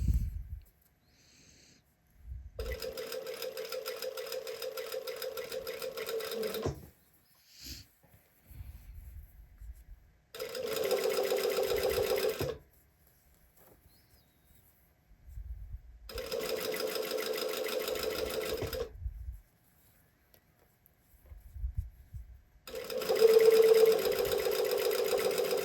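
A sewing machine top stitches a garment in four separate runs of steady, even humming and needle clatter, each lasting a few seconds, with quiet pauses and small handling noises in between.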